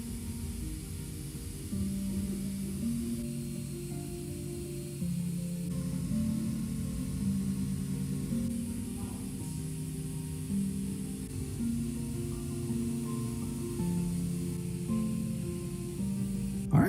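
A 3D printer prints a small rabbit and a flower pot, its stepper motors whining in shifting tonal patterns under a soft, steady hiss, moderately quiet and continuous, with no voices.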